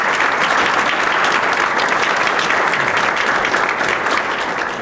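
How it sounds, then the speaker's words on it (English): A town meeting audience gives a dense, steady round of applause that holds at full strength for about five seconds and fades slightly at the end. "And I wish you'd give these gentlemen a round of applause for donating."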